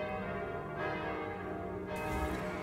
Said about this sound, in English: I think that's a bell calling us to prayer.